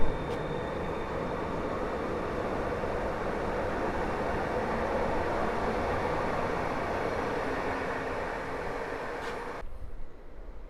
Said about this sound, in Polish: punktualnie rusza pociąg do Siedlec